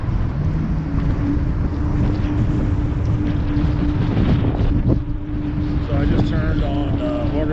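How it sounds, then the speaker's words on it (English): A strong crosswind buffets the microphone throughout an uphill ride on an Aipas A2 Elite e-bike, a loud, steady roaring rumble with slight gusting swells and a faint tonal hum underneath. "I've had a pretty good wind, crosswind"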